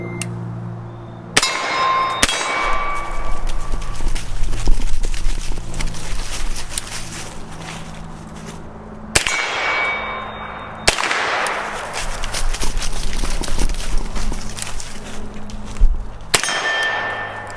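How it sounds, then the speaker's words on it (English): Sharp gunshots from a GHM9 ring out in a few separated bursts, each followed by metallic clangs and ringing from a struck steel bear target and gong, loud and close. "take 2 more shots at the bear, then run to the left side and take 1 shot at the gong"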